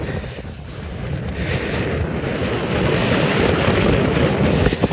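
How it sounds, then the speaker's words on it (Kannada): Strong wind gusts across the hilltop at Bettadapura, Sidilu Mallikarjuna hill, a loud continuous rumbling roar pressing on the microphone that builds slightly over the clip, with no voices. "ಏನು ಗಾಳಿ ಬೀಸ್ತಾ ಐತೆ ಗೈಸ್."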